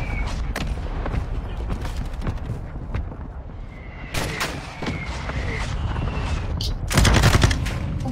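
Video game gunfire, rapid bursts of sharp shots and automatic fire at close range, with a heavier volley near the end and a bit of voice underneath.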